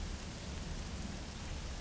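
Heavy rain pours down in a hard, unbroken hiss with a low rumbling undertone. The sound is steady and fairly faint, and no one speaks.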